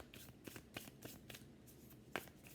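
Tarot cards being shuffled and drawn by hand for a reading, a quiet series of soft riffling flicks and slaps in uneven bursts, heard close and alone, with a sharper snap near the end.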